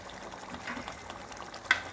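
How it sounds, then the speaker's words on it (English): Tomato paste stew for a Nigerian stew boiling and frying in a pot, a steady soft sizzle and bubbling with one brief louder pop near the end, no voices. "Now the boiling is everywhere, both between, around the pot."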